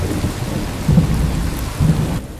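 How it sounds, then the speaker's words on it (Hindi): Heavy rain pours steadily while low thunder rumbles and swells twice in the background. No voices are heard. "बारिश अब भी वैसी की वैसी तेज होती रहती है।"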